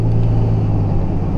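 2005 Ford Ranger pickup truck driving at low speed after a drum brake adjustment, a steady low engine and road rumble heard from inside the cab.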